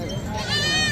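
A goat bleats in a crowded livestock market, a nanny goat with two kids, its rising wavering call standing out over steady chatter and market noise.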